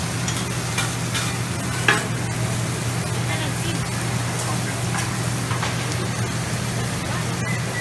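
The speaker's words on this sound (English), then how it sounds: "They'll saute in those onions, adding a little salt to all those veggies and shrimp." Onions, vegetables and shrimp sauté in a pan with salt added, a steady sizzle and stirring running through the whole stretch with a constant low hum beneath and no talk.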